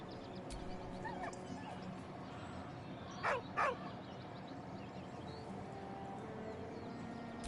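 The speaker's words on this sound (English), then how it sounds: "With a deep, heartbroken whine, the dog bows his head." A dog in Baldur's Gate 3 lets out two short, sharp whines beside a corpse, heard over a steady ambient game backdrop.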